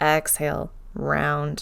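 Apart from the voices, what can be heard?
No distinct noise like a dog, phone or traffic.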